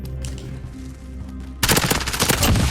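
Gunfire in Call of Duty Warzone: after a quiet stretch of game ambience, a loud burst of rapid automatic fire breaks out abruptly and keeps rattling to the end.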